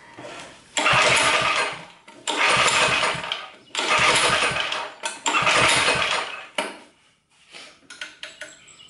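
A 1970s Sears generator engine with its choke closed is pulled over repeatedly, giving five loud rasping bursts of cranking separated by short gaps, with faint clatter afterward and no running catch.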